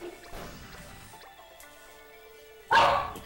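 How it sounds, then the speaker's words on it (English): An old pet dog barks in a few sharp, separated bursts, with one loud bark near the end, over a quiet indoor background. "My dog is refusing to shut up."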